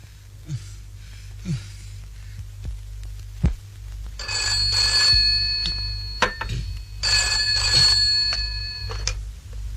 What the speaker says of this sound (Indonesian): Pak, telepon.